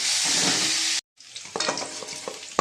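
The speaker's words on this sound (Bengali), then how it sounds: "একটু নুন দিলাম সামান্য একটু হলুদ দিলাম আলুটা ভালো করে ভেজে নেব লাল লাল করে" Potatoes frying in oil in a kadai with salt and turmeric added, giving a loud steady sizzle that stops abruptly, then resumes more softly with scattered crackles and stirring clatter.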